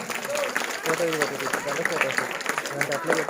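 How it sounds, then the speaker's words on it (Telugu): Audience at a church gift presentation clapping loudly in a dense, steady patter of claps, with a voice speaking over the applause throughout. "బిగ్గరగా చప్పట్లు కొట్టాలి."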